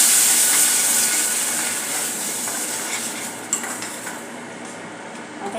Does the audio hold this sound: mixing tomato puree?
yes